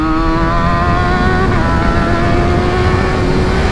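A 2011 Kawasaki Ninja ZX6R on a test ride, its engine droning loud and close with a steady high whine and gently shifting pitch, no speech.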